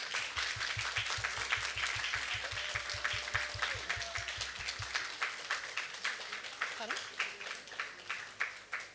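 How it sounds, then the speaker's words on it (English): An audience at a youth climate event applauds the speakers with steady, dense clapping, while a rhythmic low thumping runs under the first half and voices briefly rise above it. "can I please get a little round of applause for the speakers?"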